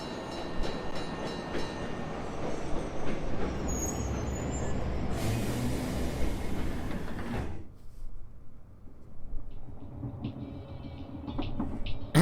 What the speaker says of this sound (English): Just sitting on a train.